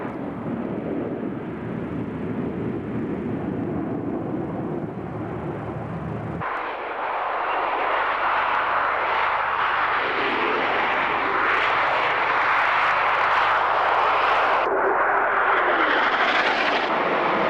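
Harrier jump jet flying at the RAF Mildenhall air show in 1997, a loud continuous jet engine roar that grows stronger and brighter partway through as the aircraft passes close, with no talk.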